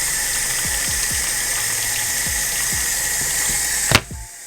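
Water rushes steadily into a washing machine drum as the wash begins, a constant hiss with low periodic thumps beneath, ending in a sharp knock.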